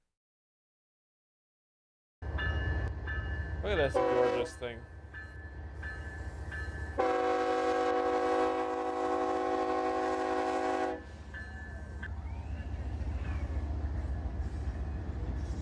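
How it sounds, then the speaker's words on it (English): A train billed as the freedom train rolls past with a loud, sustained horn blast lasting several seconds, mixed with rumbling rail noise; a person speaks briefly over it. "I clicked on the freedom train here."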